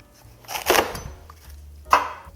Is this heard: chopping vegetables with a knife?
yes